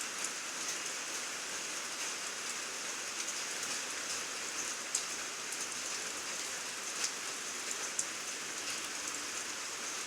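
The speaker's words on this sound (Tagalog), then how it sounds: "Kanina pa ulan ng ulan." Steady, dense rain falling on surfaces, a constant hiss with occasional louder drops, no voices.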